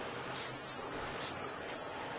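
Aerosol spray can being cleared at the nozzle while installing a battery in a Mahindra 1526 tractor: four short hissing bursts, close and fairly quiet, spaced unevenly.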